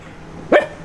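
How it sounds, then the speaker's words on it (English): A dog lets out a single short, sharp bark, fairly close, against quiet surroundings at an RV campsite by the Hillsborough River. "not the dog barks."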